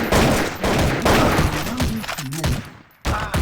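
Rapid bursts of gunfire in a Counter-Strike-style shooter map, loud and close, several volleys in quick succession with a short gap before the firing resumes.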